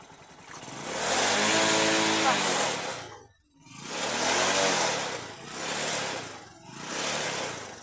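A motorcycle tricycle engine in the Philippines idles and revs in repeated swelling bursts, rising and falling several times at close range, with voices heard over it.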